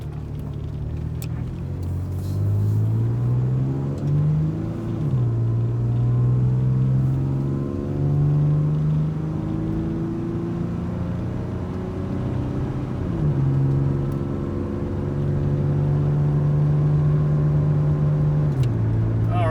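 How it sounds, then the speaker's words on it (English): A white 2004 Nissan Xterra 4x4 accelerates down the road, its engine drone rising and falling steadily through gear changes, heard loud and close from inside the cabin without talking. "So we'll put it in gear and head down the road."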